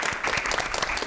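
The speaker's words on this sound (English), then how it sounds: "How about another round of applause for these incredible..." Audience applause for a panel of speakers at an evening event on oral histories and African American history, a dense steady wash of clapping filling the room for about a second.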